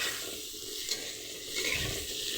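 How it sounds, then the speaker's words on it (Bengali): Steady sizzling of pointed gourd frying in a pan, with a soft stir or scrape partway through; quiet and continuous, no voices. "এবার উল্টে পাল্টে ভালো করে ভেজে নিই"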